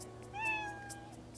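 A single short cat meow, clear but fairly quiet, rising and falling over a faint background hum.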